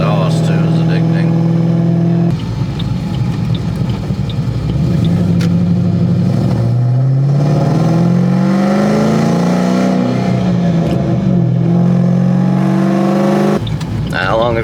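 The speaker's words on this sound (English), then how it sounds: "Well, just hearing the exhaust too is addicting." A cammed and tuned Ford Mustang GT V8 rumbles loudly up close, its exhaust revving up and down in long swells over a deep, constant idle.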